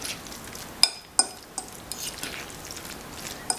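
Sauce being stirred into food in a pan, with soft scraping and a few sharp metallic clinks of a utensil against the pan over a low sizzle, close and quiet without talk.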